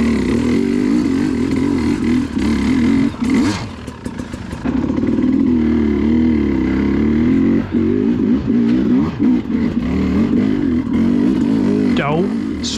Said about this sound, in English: Too many riders were revving their bikes and dropping the clutch on these sections